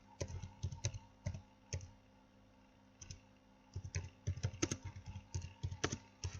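Someone types on a computer keyboard in short, uneven bursts of close, crisp key clicks with brief pauses between them.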